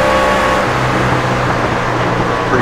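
Race cars roar past on a short-track oval during an evening race, a dense, loud engine wash with no clear gaps.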